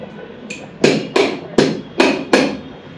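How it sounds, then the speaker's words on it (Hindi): A hammer taps an Allen key set in the front fork bolt of a Honda X-Blade 160 motorcycle, one light tap then five sharp metallic strikes in a steady rhythm, close and ringing briefly after each hit. "पहले से एलिंकी को ठोकेंगे हल्का फुल्का"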